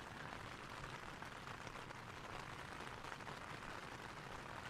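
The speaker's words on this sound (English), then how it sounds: "it's kind of raining pretty good." Rain falls on a tent beside a creek, dripping off the fabric. It makes a soft, steady, even hiss that stays faint throughout, with no voices.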